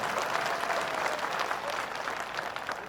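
Men in an outdoor crowd at a town development-rally event clap together, a dense, sustained burst of applause that stays loud and even throughout.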